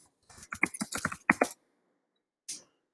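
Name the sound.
typing a search on a computer keyboard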